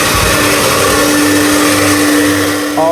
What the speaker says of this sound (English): the heater is now on, and it hasn't tripped the breaker, so it can handle my extractor